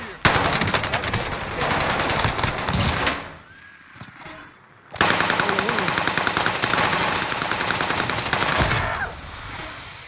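Owen submachine gun firing in Warzone, with two long dense bursts of rapid automatic fire that are loud and close, separated by a short quieter gap with softer rattles.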